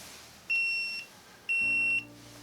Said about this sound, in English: Out of level alarm.